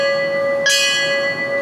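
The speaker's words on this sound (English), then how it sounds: "firefighter paramedic Wayne Westman, we toll the bell" A memorial bell rings once at a fire department training tower dedication, a bright metallic strike whose ringing tone decays slowly over a steady background hum.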